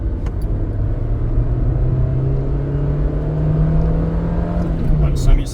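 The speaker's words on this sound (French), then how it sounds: "Je vais quand même taper une 2, voir ce que ça fait." Peugeot 206 petrol engine pulling hard in second gear from around 3000 rpm, a steady loud rising drone heard from inside the car with no talking over it.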